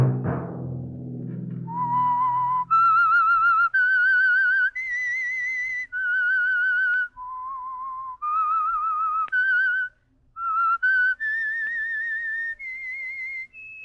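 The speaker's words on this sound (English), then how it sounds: "Let that whistle be your signal for the Signal Oil program, The Whistler" A lone whistler carries the eerie theme tune of The Whistler radio mystery program, clear sustained notes stepping up and down in a slow melody, with a low sound fading out at the start.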